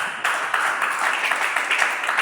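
A congregation at a prison evangelism service applauds, a short burst of dense clapping from a nearby crowd heard on its own.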